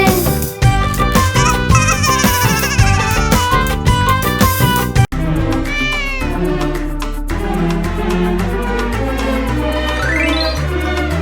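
A cat meows repeatedly through a lively Malayalam children's rhyme, the cries riding over bright, busy music that plays loudly throughout.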